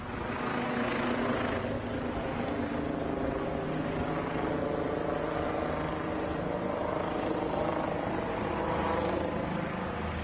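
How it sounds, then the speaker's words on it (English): A helicopter's rotor thrum drones steadily overhead, fairly loud and unbroken, with no talking. "Helicopter's still going around in circles."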